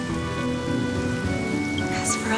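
Steady rain falling in Honkai Star Rail, a continuous even hiss of drops under a sustained musical tone, with no break throughout.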